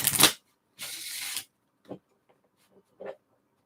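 Tarot cards are shuffled by hand in two close bursts of riffling and slapping, followed by a few soft taps and card handling sounds.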